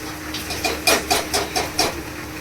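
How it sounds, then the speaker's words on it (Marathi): Dal being tempered in hot oil, giving bursts of loud sizzling hiss that swell and fade in a rapid, evenly spaced series, close by over a low steady hum. "इथे डाळीला फोडणी देते"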